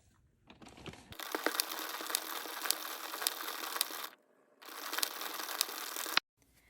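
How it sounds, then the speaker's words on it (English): A 22-needle circular knitting machine is cranked by hand in two bursts of rapid ratcheting clicks, split by a short pause. The sound is close and clear with no speech. "knit another 5 to 10 rows"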